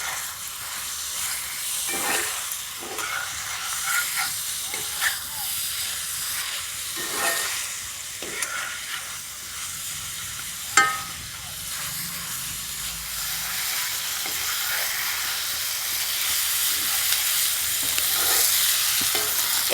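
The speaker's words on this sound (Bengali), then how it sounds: "এবার মশলাটাকে খুব ভালোভাবে কষাবো।" A ginger-garlic-green chilli paste with turmeric and Kashmiri chilli powder sautéing on a homemade clay stove for a lote fish curry: a continuous close sizzle broken by periodic stirring scrapes and one sharp knock midway.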